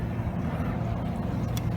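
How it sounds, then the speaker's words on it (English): A steady low engine roar from a passing go-fast speedboat on the water, continuous and fairly loud throughout, with no voices. "That's a go fast boat there, boy."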